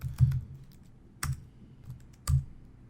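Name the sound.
typing a password on a computer keyboard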